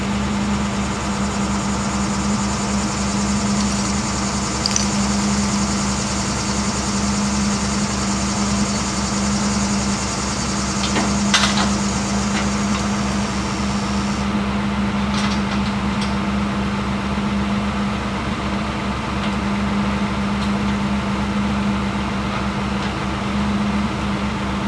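Tractor engine runs at a steady idle while the tractor sits high-centered on a log on a mowed trail, an even, close droning hum with a few brief clanks midway.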